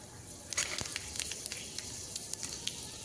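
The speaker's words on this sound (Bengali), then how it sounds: "শুকনো লঙ্কা একটু নেড়ে নিয়ে এবার দিয়ে দিচ্ছি মেথি আর কালো জিরে" Fenugreek and nigella seeds with a dried red chilli hit hot oil in a pan, giving a soft continuous sizzle with scattered sharp crackles and pops, close and fairly quiet, with no talking.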